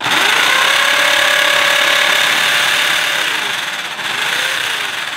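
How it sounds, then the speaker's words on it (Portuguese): Power drill boring a screw hole for a homemade wooden go-kart, a loud continuous whine with steady grinding that holds for about five seconds, dips briefly near the end, then resumes and cuts off. "Vamos fazer um furinho aqui, ó, pra colocar o parafuso."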